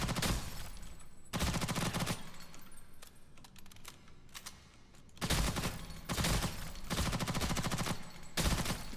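Automatic weapon fire rings out at the shooting range in Ghost in the Shell: First Assault, loud rapid bursts of shots in long strings separated by brief pauses.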